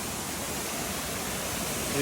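Rushing water at a hidden waterfall in Amboli, a loud continuous broadband roar that fills the scene steadily from start to finish.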